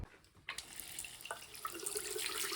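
Water gushing from a household pipe at an electric shower point after the supply is turned back on, a close, steady rushing flow that starts abruptly and keeps running.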